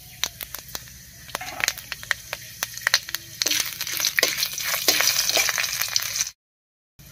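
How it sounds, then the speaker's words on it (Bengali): A spoonful of panch phoron spices hits hot mustard oil in a kadai, setting off sharp crackling pops and a sizzle that builds to a dense, loud fry before cutting off abruptly. "তেল গরম হয়ে গেছে, তেলের মধ্যে দেব এক চামচ মতো পাঁচফোড়ন।"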